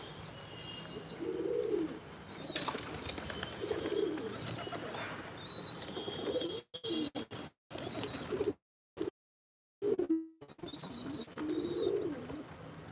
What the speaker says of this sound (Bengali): বাচ্চা পায়রা খুব জ্বালছে।